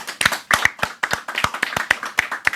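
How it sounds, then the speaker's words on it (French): Studio audience on a French-language TV set clapping for the production crew, a short run of sharp, fairly close individual hand claps with an uneven rhythm, heard alone without talk. "On peut déjà d'office applaudir notre équipe de réalisation sur le plateau, Carole"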